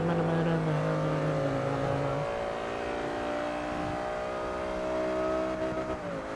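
A heavily upgraded car in the Forza Motorsport 3 racing game holds a loud, sustained engine drone that shifts pitch as it changes gear and climbs steadily, with faint tire noise underneath.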